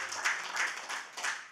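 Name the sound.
applause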